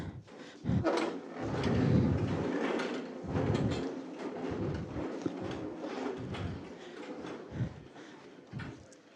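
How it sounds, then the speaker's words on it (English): Chairs are pushed in at a health and safety conference presentation, a run of repeated wooden scrapes and slides, fairly near and overlapping, from several seats across the room. "I need you to push your chair in."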